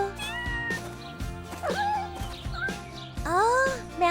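A kitten meows repeatedly outdoors, several high, rising and falling cries in close succession, loud and near, with a little quiet speech in between.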